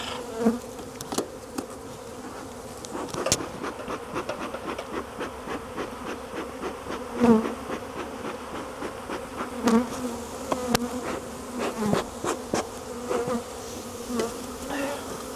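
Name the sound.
bees buzzing in a full beehive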